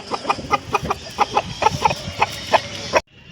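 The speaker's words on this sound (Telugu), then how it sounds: "మీరు చూస్తున్న పుంజు తెల్లనమ్మలి ప్రవీణ్ అన్నది" A rooster clucks in a quick, regular series of sharp notes close by at the Pileru poultry market, about a dozen in a row, then stops.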